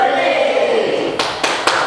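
Three sharp hand claps close by, following a sustained chanted vocal tone during a children's finger-clapping chant, the claps spaced unevenly at the end.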